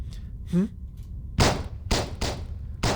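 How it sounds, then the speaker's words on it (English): Several sharp, loud bursts of synthetic gunfire in the video game Reverse: 1999, about four shots spaced irregularly, with a faint tonal sweep between the first blasts. "Gunfire outside the room grows more intense"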